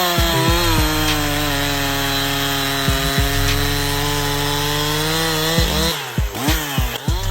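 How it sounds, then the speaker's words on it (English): A chainsaw cutting into a tree runs steadily at a loud, close buzzing whine, dipping briefly a few times as the engine revs change, then stuttering near the end. "Are you, like, playing with the chainsaw?"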